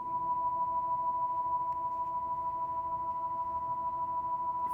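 A steady 440 Hz test tone hums continuously at even loudness, with a few fainter harmonic lines above it and no voice.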